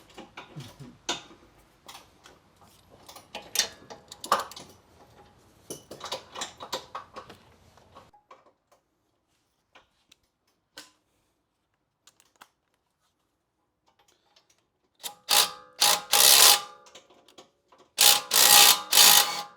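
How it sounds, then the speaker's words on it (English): Large front strut bolts being loosened on a 2013 Honda CR-V, clicking and ratcheting metal in irregular bursts, then a quiet gap, then loud close clatters near the end. "And now we can go ahead and loosen our huge bolts."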